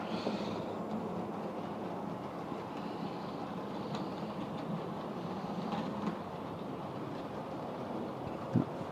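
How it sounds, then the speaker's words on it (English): Painted, weathered model train carriages roll over code 100 rail with a soft, steady rumble and faint clicking, heard close and low throughout, with a small knock near the end. "they should have no problem going over my code 100 rail here"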